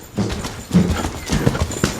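Horse hooves clip-clop on the ground as a ridden horse moves in small circles, with steady, fairly close footfalls and an occasional soft snort.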